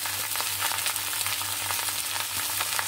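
Sweet pumpkin sautés in a hot pan, seasoned with salt and turmeric and cooked alongside fish, giving a steady, close sizzle with faint stirring scrapes throughout.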